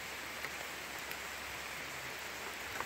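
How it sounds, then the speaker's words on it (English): Heavy rain falling outside, a dense, even hiss of drops on surfaces with a few brief louder patters, steady and moderately faint throughout with no voices. "It's raining pretty good out there right now."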